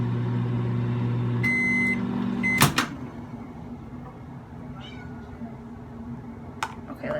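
A kitten named Kiki gives one short, fairly loud meow midway through, over a steady indoor hum, with an electronic beep pattern just before it and a faint clatter near the end.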